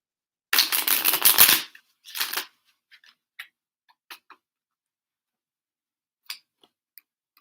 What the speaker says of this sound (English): So I'm going to shuffle it one more time.